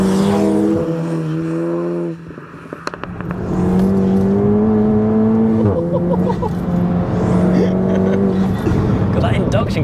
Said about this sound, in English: God, that induction kit sounds amazing as well.